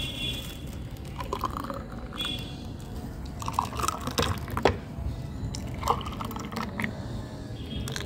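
Watermelon and date sherbet poured from one container into another, a steady liquid trickle with soft splashes and a few clinks, close and fairly quiet, no talk.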